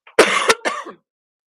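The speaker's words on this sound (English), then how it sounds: "Sorry, I have to cough." A cough during a live online talk: one short throat catch, then a hard, loud cough burst and a second weaker one, close to the microphone, followed by silence.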